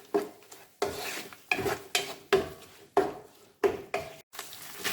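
Green chilies and curry leaves get stirred in a pan for a spicy Kerala beef roast, a series of about eight scraping strokes, each a loud rasping swish over faint sizzling, evenly paced and close.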